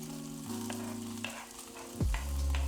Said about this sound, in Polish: I na tym tłuszczyku, po co smażyliśmy ten skap, posmażę tę cebulę.